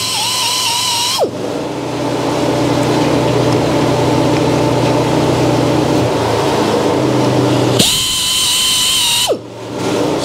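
A chainsaw chain being sharpened with a power grinding tool: a steady high whine runs through most of the stretch, stopping and starting again as the work moves around the blade, loud and close with no talking.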